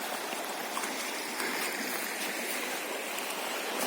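A river flows through forest and fields, making a steady, soft rushing babble that continues evenly throughout with no talking.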